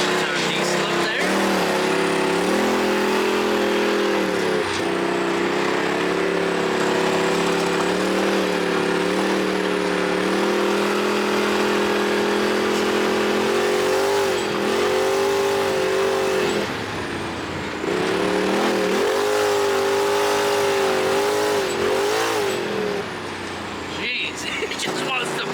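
Ford F-350 Powerstroke diesel flatbed truck pulling away, its steady engine drone rising and falling through the gears at close range for most of the stretch, with people talking over it.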